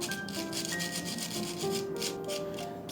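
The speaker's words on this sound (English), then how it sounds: "when you choose the sieve here, choose the one which has very small holes so you get a very nice, smooth, fine powder" Chaat masala powder pushed through a fine-mesh sieve with a spoon, a continuous close scraping and rubbing with quick repeated strokes, moderately quiet.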